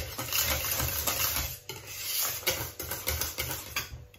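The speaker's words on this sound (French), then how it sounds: "Je mélange de nouveau au fouet" A whisk scrapes and clatters rapidly around a bowl as a mixture with chopped chives is beaten, a close, busy scratching rhythm with small pauses and no talking.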